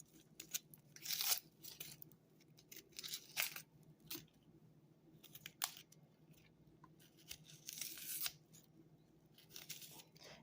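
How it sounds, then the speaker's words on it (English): An onion being peeled and chopped for Tuscan bean soup: close, dry crackling and tearing of papery skin in several short bursts with a few crisp cuts between them, no voices. "And then we just peel and chop the onion."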